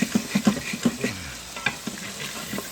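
Vidalia onions sweating in butter in an Instant Pot sizzle softly while a utensil scrapes and knocks against the pot bottom in uneven, close strokes that fade toward a quieter sizzle.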